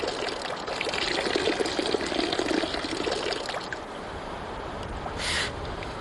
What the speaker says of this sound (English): Whilst they build the sluice box, I get the chance to try out panning for myself.